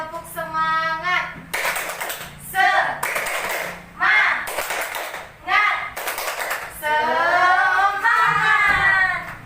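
A group of women stands and claps a rhythmic Indonesian spirit clap in a training session, with bursts of claps alternating with spoken counting and chanting.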